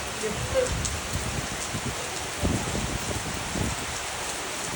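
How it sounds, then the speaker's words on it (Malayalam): Evening rain and wind at a house in Malappuram, Kerala: rain patters steadily on surfaces with a soft, continuous hiss, occasional louder drops and gusts, moderately close. "വൈകുന്നേരം നല്ല മഴയും കാറ്റൊക്കെ വന്നപ്പോൾ"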